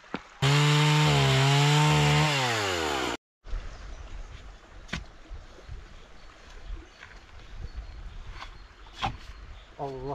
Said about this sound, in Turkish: Evet, şimdi şuna keseyim o da.